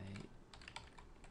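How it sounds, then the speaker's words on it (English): A few soft keystrokes tap on a computer keyboard, quiet and close, in a short uneven burst while a name is entered into a form. "So I'm going to type my name"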